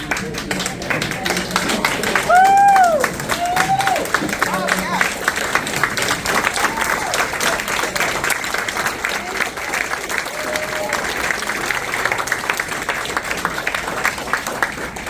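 Veterans are applauded at a Veterans Day gathering at Little Manatee Springs, a steady, even wash of clapping from a crowd lasting throughout, with a voice rising briefly over it near the start.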